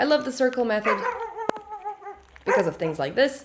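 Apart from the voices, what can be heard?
neighbor's dog barking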